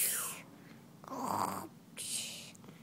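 A young child imitates snoring on request, making two or three breathy, rasping snore sounds with short pauses between them, close to the microphone, with a soft voice nearby.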